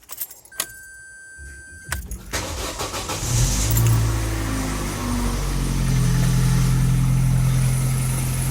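A car's engine turns over after a brief jangle of keys, then settles into a steady, close, loud idle with a low rumble and no talk.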